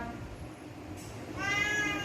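A cat meows softly under ongoing household noise while a person talks nearby, the high tonal cry rising near the end of the short stretch.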